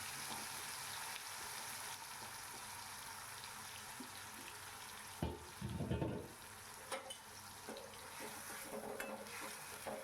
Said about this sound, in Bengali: পেঁয়াজ ধনে পাতা আদা রসুনের পেস্টটা দিয়ে দিচ্ছি